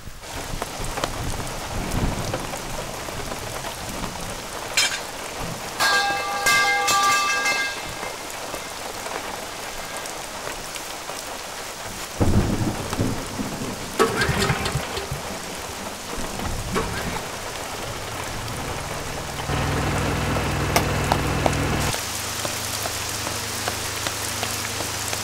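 Heavy rain pours steadily with a dense hiss of drops on surfaces, broken by a few sharper knocks and shifts in intensity, and no one speaks.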